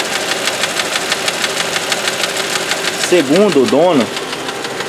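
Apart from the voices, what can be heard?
car engine knocking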